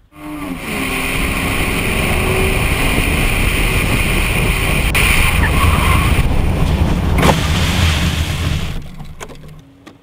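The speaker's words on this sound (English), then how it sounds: "that vehicle travelling at 100 kilometres an hour on bald, unsafe and underinflated tyres took 15 metres longer to stop" A car on bald, underinflated tyres brakes hard from 100 km/h, giving a loud, sustained broadband roar of tyre and road noise with wind buffeting that fades near the end as the car stops.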